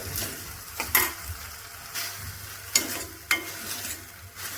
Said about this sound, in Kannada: ಇವಾಗ ಟೊಮೊಟೊನ ಒಂದು ಸ್ವಲ್ಪ ಸಾಫ್ಟ್ ಆಗೋವರೆಗೂ ನಾನು ಇದರಲ್ಲಿ ಫ್ರೈ ಮಾಡ್ಕೊಳ್ತೀನಿ